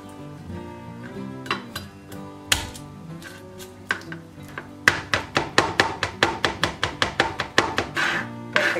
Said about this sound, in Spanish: Comenzaremos la receta cortando muy finitos los ajos, los vamos a picar muy muy pequeñitos